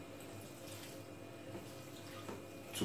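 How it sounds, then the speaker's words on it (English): Water pours into a cooking pot while preparing waakye, a soft, steady trickling and splashing that runs continuously at low level, close by and without talk. "Okay, so you add just enough water"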